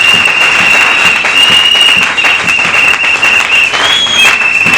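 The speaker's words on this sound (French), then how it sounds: "Est-ce que tu peux acclamer pour Jésus?" A church congregation bursts into loud, sustained applause and cheering for Jesus, dense clapping filling the hall from start to finish with a high whistle-like tone riding above.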